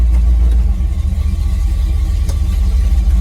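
A 1979 Jeep CJ-7 engine runs steadily in reverse, a loud, close low rumble with slight uneven pulsing and no talking over it.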